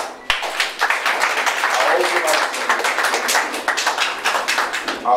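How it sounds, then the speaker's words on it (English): An audience at an inauguration ceremony claps, a burst of many hands starting sharply and continuing with uneven rhythm, fairly close and loud, with no talking over it. "Ladies and gentlemen, a round of applause once more for him."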